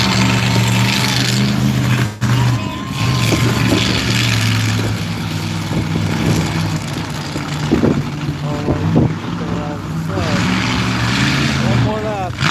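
The Shark Attack monster truck, 10,000 pounds and 1,750 horsepower, drones and revs in a mud pile at a Barona Speedway monster truck show in Lakeside, California. Its loud, steady engine roar carries on under an announcer and crowd noise.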